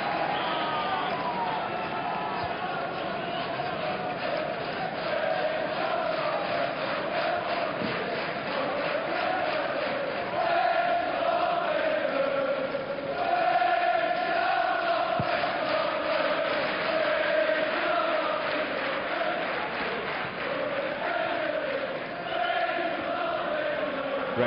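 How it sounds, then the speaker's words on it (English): A big stadium crowd at a Liverpool versus Blackburn Rovers football match murmurs and rumbles throughout, with some jeering at a player. The noise stays broad and distant, with a commentator talking over it at times. "Crowd getting on his back slightly."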